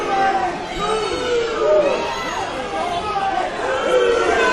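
Large packed crowd at a live wrestling show in a sports center arena, a continuous roar of chatter and shouting voices filling the hall with some whistles, loud and sustained throughout.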